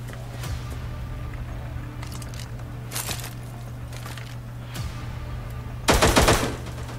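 Gunfire from a weapon in the shooter game Cyber Hunter: scattered short bursts over a steady low hum, ending in a louder rapid volley near the close.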